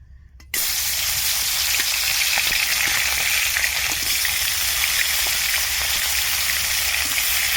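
A fish head hits hot oil, which suddenly erupts into a loud, steady sizzle with crackling pops, continuing close and unbroken after a brief quiet start.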